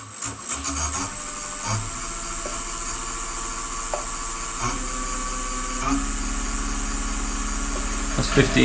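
Wood lathe spinning an apple-wood turning at 1100 RPM, a steady low motor hum and drone running throughout with faint rubbing and a few small knocks, while a voice talks over it.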